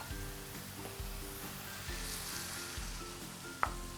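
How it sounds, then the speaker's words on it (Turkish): Tomato sauce poured over cooked minced meat for a bolognese hisses in a hot pan, a steady close sizzle with faint stirring scrapes and a sharp clink near the end. "Ee, şimdi ben kıymayı pişirdim. Üzerine domates sosunu da ekliyorum."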